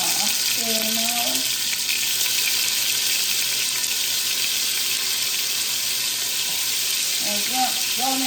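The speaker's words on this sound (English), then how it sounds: "So we are browning our oxtail now" Oxtail browning in hot oil, a loud, steady, close sizzle and crackle that continues unbroken, with a person talking briefly over it at the start and end.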